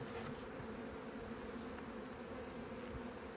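Honeybees buzzing around a beehive being packed down for winter, a steady, dense drone with no pauses, fairly quiet and close, with no talking.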